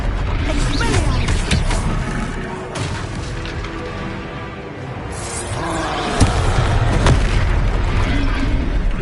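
A disarming spell blast from Hogwarts Legacy cracks out as a loud, booming burst with a whooshing release over dense game combat noise, then a second heavy impact lands a few seconds later.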